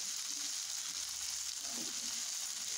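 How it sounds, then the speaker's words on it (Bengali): Potatoes fry in a shallow layer of oil in a home kitchen, a dense and even sizzling hiss that runs steadily throughout, close up, with a few faint clinks and no talking. "এখন এটার মধ্যে আলুগুলো ভেজে নিব"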